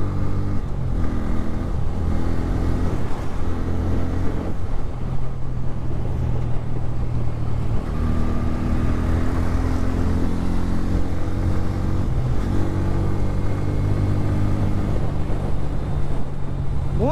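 A 2024 Bajaj Pulsar N160 motorcycle engine runs steadily while riding, its droning hum shifting pitch as it accelerates and eases off, close and continuous throughout.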